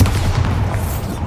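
A short, heavy Bombarda spell explosion in a decaying catacomb in the Hogwarts Legacy video game, a loud low boom with a crackling rumble.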